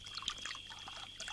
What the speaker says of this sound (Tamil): ஃபுல்லா ஊத்து.